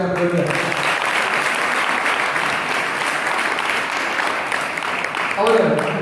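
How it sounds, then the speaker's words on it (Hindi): Audience applause at an inauguration gathering, a dense, continuous clapping from a crowd lasting several seconds at steady volume, with a brief swell near the end. "हम लोग ताली बजा के"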